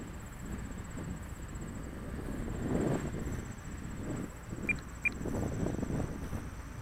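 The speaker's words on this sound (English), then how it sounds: "we're getting wind now" Wind buffets an outdoor microphone at an RC flying field where an E-Flite Timber plane is being flown, a steady broadband rumble that swells and eases, with a faint high whine above it.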